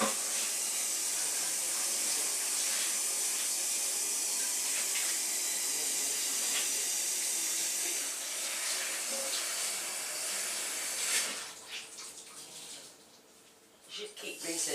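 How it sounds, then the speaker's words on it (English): A household kitchen tap runs steadily as a scrub is rinsed under it, making a continuous close hiss and splash that briefly breaks up and dips near the end before surging again. "I'm just going to rinse that under the tap."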